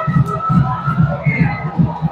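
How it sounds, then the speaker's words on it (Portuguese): A football crowd celebrates in the stadium at the Roraima championship final, São Raimundo against Real, with rhythmic pulsing chants or drumbeats and a broad, distant roar of fans. "A torcida vai fazendo a festa aqui no estádio."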